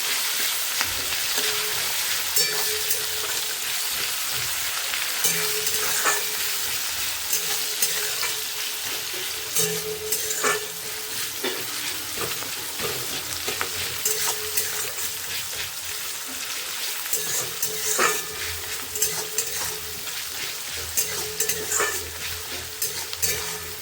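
Onions and green chillies stirred into hot oil with whole cardamom, cinnamon and cloves, sizzling steadily up close for a long stretch, with repeated scraping and clattering of the stirring spoon throughout.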